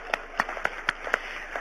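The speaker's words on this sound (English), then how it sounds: "Please clap for yourselves" Hand clapping at an annual learning network meeting: about six crisp, evenly spaced claps in a steady rhythm, sparse and fairly quiet rather than a full crowd, with no talking.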